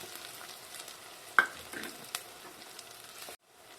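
Dried red chillies fry in oil in a clay pot, a steady sizzle with a couple of stirring knocks before the sound cuts off near the end.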